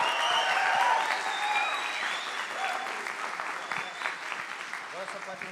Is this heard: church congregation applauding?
yes